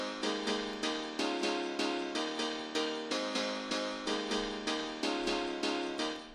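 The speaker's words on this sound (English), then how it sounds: "This is a more bright and harsh piano" Bright, harsh piano layer with boosted highs and reverb, playing rhythmic repeated chords in a progression, crisp and loud with no voices.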